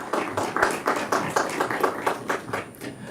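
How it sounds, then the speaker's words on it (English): An audience at a lecture gives a round of applause welcoming the speakers, individual claps distinct and fairly even in rhythm, moderately loud and steady, with no one talking over it. "kindly welcome all of them once again with a huge round of applause"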